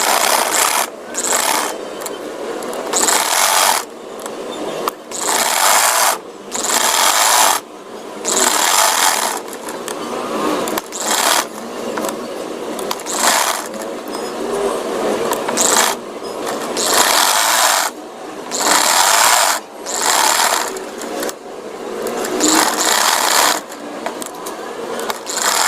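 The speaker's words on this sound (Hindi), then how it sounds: "तो चलो अब इस पर सिलाई लगाते स्टार्ट करते हैं।" A sewing machine stitching a V-shaped neckline runs in loud, close whirring bursts of rapid mechanical stitching, stopping briefly between runs, with no talking.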